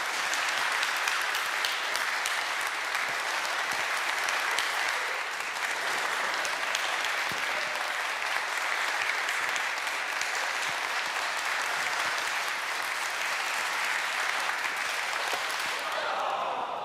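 A large audience claps steadily and continuously for the Laser Clappy Bird game, a dense, even wash of applause that holds its level throughout and ends in a brief, quieter fade.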